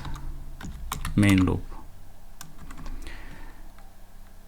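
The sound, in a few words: typing code on a computer keyboard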